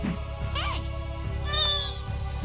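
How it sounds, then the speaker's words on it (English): A house cat meows twice, close and fairly loud, over a background of electronic arcade game music and sound effects. "Darn cat, get off me!"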